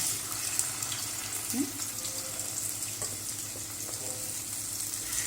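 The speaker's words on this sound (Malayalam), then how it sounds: "ഇനി ഞാൻ മീൻ പൊരിക്കട്ടെ." Mackerel fries in a pan with a continuous low hiss and crackle close by, with faint scraping of a utensil partway through and no talking.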